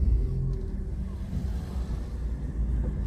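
A Volkswagen Lupo drives along a back road, its engine a steady low rumble heard from nearby with a slight rising and falling drone and no talk over it.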